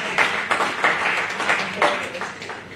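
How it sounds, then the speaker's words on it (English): A church congregation gives a hand clap of praise, a burst of scattered, uneven clapping with distinct individual claps standing out, moderately close and without talk over it. "then give God a hand clap of praise"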